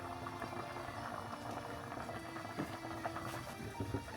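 Water held at a steady rolling boil in a pot lined with a cloth on the bottom, used for steaming buns; a continuous close bubbling and churning texture throughout, with no speech.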